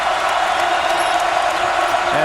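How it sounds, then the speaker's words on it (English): A crowd roars steadily in a basketball arena during a college game between KU and MU, a loud sustained wash of cheering under an excited commentator's voice. "the crowd is up"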